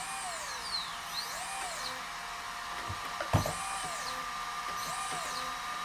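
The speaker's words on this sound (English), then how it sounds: "This motor works just fine" Brushless motor in a Storm Breaker RC car running on the bench, quiet whining pitch that rises and falls in repeated sweeps as the throttle is worked, with a few small clicks and one sharp knock.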